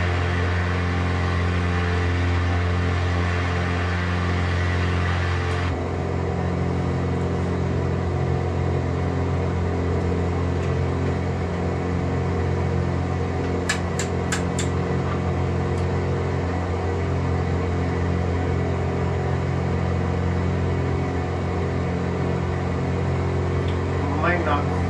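A Cessna 182RG climbing toward clouds, its engine a steady, loud, continuous drone heard from inside the cabin, with a shift in tone partway through as the throttle is adjusted. A voice speaks briefly over the engine.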